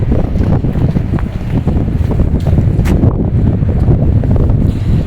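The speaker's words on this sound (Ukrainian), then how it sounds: "оце вітерочок дме, такий морозяний, зима прийшло" Cold, frosty winter wind blows hard and steadily across the microphone outdoors after snowfall, a loud continuous roar and buffeting with no pauses.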